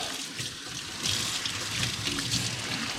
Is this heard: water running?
yes